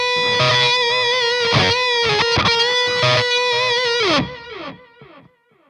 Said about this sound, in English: Let's add a bit more gain, you know, for more sustain and more saturation